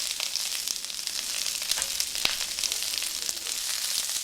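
Chopped jalapeno frying in oil in a pan with noodles for spicy cumin fried noodles with tofu and green beans, a dense, steady close sizzle with faint clicks and shuffles as the pan is tossed.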